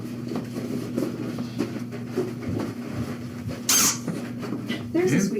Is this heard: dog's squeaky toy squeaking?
yes